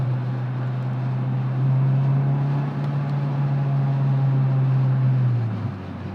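A Honda Odyssey minivan engine pulling in a lower gear after a downshift while descending a hill, a loud steady low drone that rises slightly in pitch and holds before easing off, no talk.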